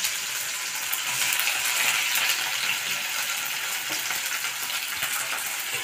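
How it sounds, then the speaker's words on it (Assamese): Chopped onions crackle and sizzle in hot oil in a small hostel-room pan, a steady, busy frying hiss that stays close and even throughout, with no one talking. "এতিয়া তেলখিনি গৰম হোৱাৰ পিঁয়াজখিনি দিওঁ"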